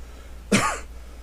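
A single sharp cough, close and fairly loud, with a rough throaty tail lasting about a third of a second, set against a quiet low hum and otherwise silence.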